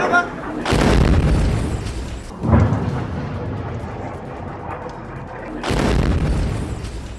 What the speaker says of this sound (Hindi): इसके बाद एक जोरदार धमाका होता है।